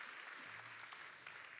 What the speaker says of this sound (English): Let's give him a big applause